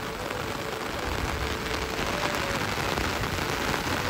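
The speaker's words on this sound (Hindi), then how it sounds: "काफ़ी भयंकर बारिश भी आ रही है" Heavy rain falling steadily during a storm in Uttarakhand, a dense, continuous hiss of downpour with no break, filling the whole scene at a constant, fairly loud level.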